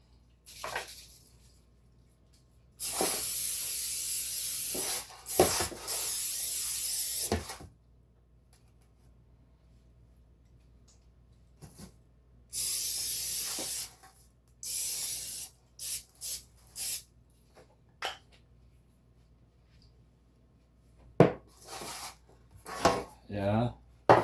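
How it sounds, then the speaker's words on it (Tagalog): Butter spray hisses into a baking pan while a banana cake is being made, in several sharp, steady bursts of a few seconds each, separated by quieter pauses and a few shorter spurts near the end. "mas better you need to use butter spray"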